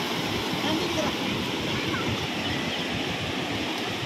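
Strong broadband rushing of the Godavari river flowing hard at Panchavati, Nashik, a steady, loud wash of water with no break across the clip.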